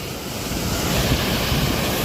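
Steady rushing and splashing of a small waterfall, a constant broad roar with no pauses.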